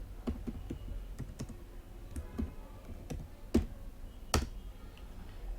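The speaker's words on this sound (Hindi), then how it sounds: "अब मैं यहाँ पे बेरिंग टाइप करता हूँ" Someone types on a computer keyboard while entering an Excel VLOOKUP formula, with quiet, uneven keystroke clicks close by. A few louder key presses stand out near the end.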